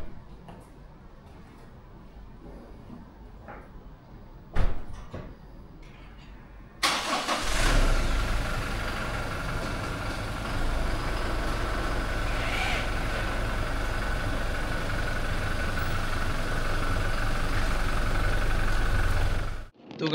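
A car engine starts abruptly partway through, after a few clicks and knocks, then settles into a loud, steady idle that runs to the end before departing on a road trip from Kolkata to Siliguri.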